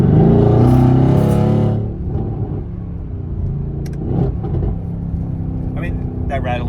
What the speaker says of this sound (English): my GTR with this exhaust setup sounds better than my R8's V10